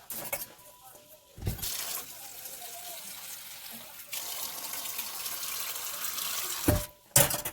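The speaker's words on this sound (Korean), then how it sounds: "다시 물 줘야겠네요" Water pours and splashes over bean sprouts grown from black beans in a couple of long, close gushes, separated by brief louder knocks.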